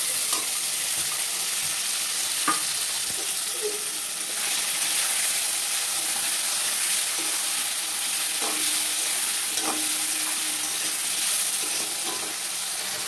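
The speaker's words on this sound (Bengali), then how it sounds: "আমার চিংড়ি মাছ আলু ভাজা হয়ে গেছে" Prawns and potatoes fry in a pan with a steady, close sizzle and hiss, broken by a few soft clinks and scrapes of stirring.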